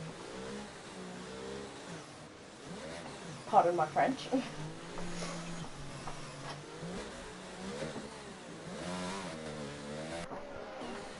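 Racing car engines rev and roar at middling volume as the safety car comes in and the race resumes in Spain, mostly under casual chatter between people.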